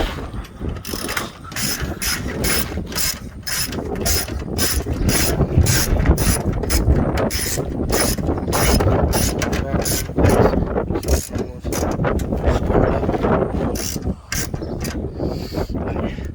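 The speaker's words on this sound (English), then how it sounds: "Let's go ahead and tighten this down with our 10mm." A ratchet with a 10mm socket clicks rapidly and steadily while tightening a starter mounting bolt on a Lexus ES330, the dense ratcheting strokes running close and loud for the whole stretch with no talk.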